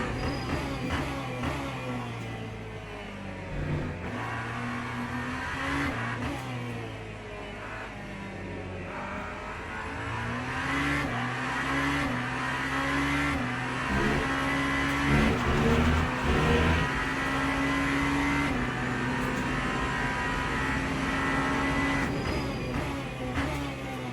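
Race car engines in Le Mans Ultimate rev and climb through the gears continuously, a loud layered drone with rising and falling pitch sweeps and no talk.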